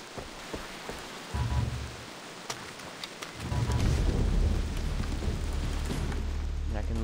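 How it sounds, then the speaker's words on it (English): Heavy rain falls in the jungle of the video game Far Cry 3, a constant hiss that thickens midway, with low rumbling surges like distant thunder. "Why did it have to be raining?"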